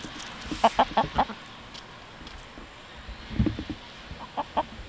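A backyard hen clucks in short bursts of several quick notes close by, pausing between, then lets out a few more scattered clucks and soft low calls after a quiet gap.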